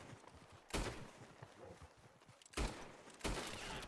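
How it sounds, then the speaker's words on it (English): Three sharp gunshots crack out in a Red Dead Online shootout, spaced irregularly at mid distance over a low background of hoofbeat-like thuds and ambient game noise. "he's shooting somewhere"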